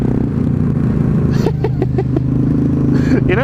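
A Yamaha MT-07 motorcycle engine idles with a low throaty rumble, and a voice speaks briefly over it.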